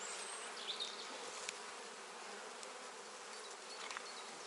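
A dense, steady buzzing of many honey bees at an opened hive in spring fills the air, close and continuous, with no talking.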